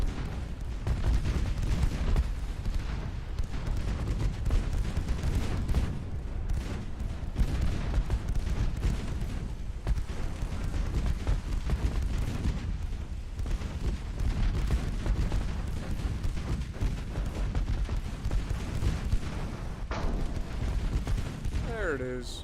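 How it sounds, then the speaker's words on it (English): Dense, continuous naval battle din in a warship video game: a torpedo detonation among constant heavy shell fire and explosions, booming and rumbling close throughout, with a voice talking over it. "There's a torpedo detonation."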